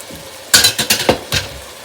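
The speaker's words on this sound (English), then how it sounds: "I'm going to stir that in." Garlic being stirred into a hot sizzling pan for chicken chasseur, a handful of quick scraping, clinking strokes of a utensil against the pan over a soft frying hiss, close and alone without talk.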